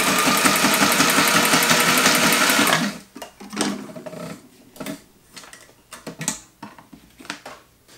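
A Singer HD sewing machine stitching leather with an unthreaded needle: nearly three seconds of loud, rapid, continuous mechanical stitching, then silence broken by scattered short bursts of slower stitching and clicks, close by.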